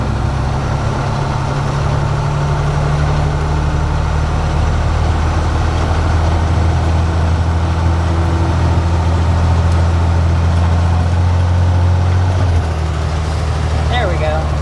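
A 5-ton truck's heavy engine drones steadily while driving, a loud, constant low rumble filling the cabin throughout, with a slight shift in pitch near the end.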